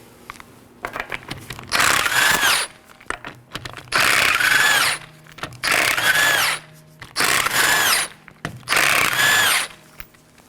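Five loud bursts of a power impact tool spinning off 19mm lug nuts on a 2018-2024 Chevrolet Equinox wheel, evenly spaced with short pauses of clicking and handling between them, close and without talk.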